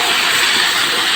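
Whole cardamom pods and cloves tempered in hot oil for a mutton curry with chana dal, giving a steady, loud, close sizzle that hisses without pause.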